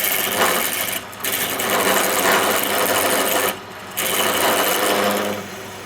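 A power drill with an 8.5 mm bit whirs steadily up close boring a clearance hole, briefly cutting out twice before resuming its high, grinding drone.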